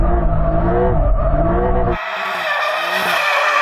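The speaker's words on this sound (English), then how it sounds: "just wants to go and have a little bit of a victory drift round a tree" A Lamborghini Sterrato, an off-road supercar, drifting around a tree, its tires skidding in a loud, continuous squeal over a roaring engine, with the pitch shifting partway through as the slide changes.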